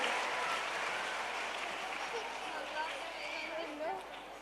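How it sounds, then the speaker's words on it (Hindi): An audience applauds children at a school quiz contest, a continuous wash of clapping at moderate distance, steady throughout and easing slightly near the end. "जोरदार तालियां इन बच्चों के लिए"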